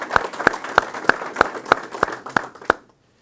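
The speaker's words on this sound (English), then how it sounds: "So you could give her a round of applause for putting up with me for 15 years so far." Applause at a press conference for a new head men's basketball coach comes as about ten sharp, evenly spaced claps in a steady beat, close and crisp, before stopping abruptly into quiet.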